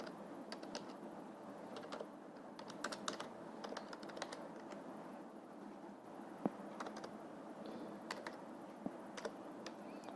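Typing on a computer keyboard while adding a record to an Excel worksheet, quick irregular clusters of light key clicks over a soft room hum, close and fairly quiet, with no talking.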